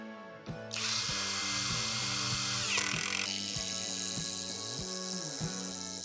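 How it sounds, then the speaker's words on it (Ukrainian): A Procraft PS22 cordless screwdriver in wood-screwing mode drives a screw into wood: a motor whine that starts slow, then speeds up into a loud continuous buzz with a regular ratcheting pulse, heard close up with no talking. "обираємо перший режим це навкручування по деревині"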